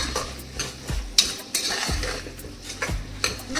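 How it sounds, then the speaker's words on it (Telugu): A spoon stirs tomato rice with salt in a cooking pot, irregular scraping clinks and soft knocks against the metal over a faint sizzle, close and unaccompanied by speech. "ఇప్పుడు దీంట్లోకి సాల్ట్ వేసుకుందాము ఇప్పుడు ఒకసారి మంచిగా కలిపేసుకోవాలి"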